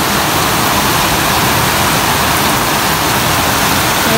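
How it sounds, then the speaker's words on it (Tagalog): Heavy rain pours down steadily during Typhoon Carina in Bulacan, a loud, unbroken wash of hiss with no voices. "Kaya talaga napakahirap kapag ganitong umuulan."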